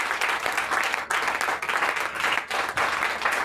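A church congregation at an evening service claps loudly in a fast, steady rhythm, joined by raised voices acclaiming the Lord, with short dips between bursts of clapping.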